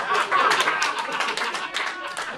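Audience at a comedy debate in a venue claps together in a brief, lively burst of many hands, fairly close and loud, gradually thinning toward the end.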